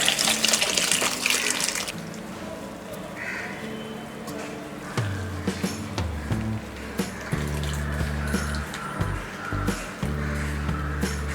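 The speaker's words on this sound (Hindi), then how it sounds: "पास्ता को हम स्ट्रेन कर लेंगे।" Cooking water pours off freshly cooked pasta as it is strained, a steady splashing rush at the start that settles into quieter trickling and drainage over several seconds, with no talking.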